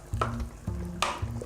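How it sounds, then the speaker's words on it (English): Butter melts in a pot over gentle heat, giving a soft, steady sizzle at close range, with a few scraping stirs and light clinks of a utensil against the pot. "chuck your butter into your pot. Making sure you're not on too high a heat because we just want this to melt"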